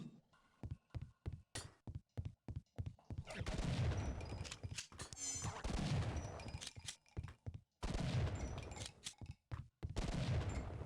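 Repeated shotgun blasts in a video game, a rapid run of sharp loud bangs followed by denser, sustained bursts of gunfire with brief silent gaps between volleys.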